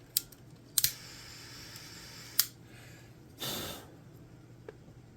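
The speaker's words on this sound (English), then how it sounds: "Just nip off the end like that." Cutters snip a wire end during the repair of a vintage Kenmore fan, giving several sharp, close clicks spread over a few seconds, plus a short rustle, with no talk.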